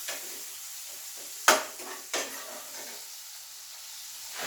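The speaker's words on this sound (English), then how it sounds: "Still frying my banana peels." Banana peels frying in a pan, a steady close sizzle throughout, broken by a sharp utensil clack against the pan and a softer stirring scrape soon after.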